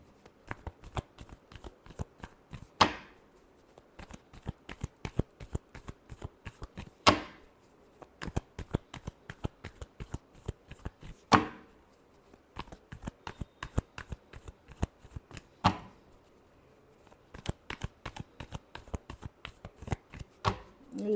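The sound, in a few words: shuffling tarot cards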